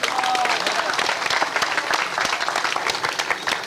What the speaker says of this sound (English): Y'all clap it up for him.